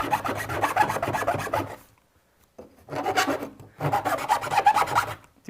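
Metal file rasping across a chassis part in long repeated strokes, close and loud, with a short pause between bursts of steady back-and-forth filing.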